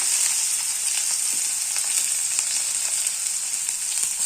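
Onions fry in hot oil with a bright, steady, close sizzle, crackling and loud throughout, with occasional light pops and no talking.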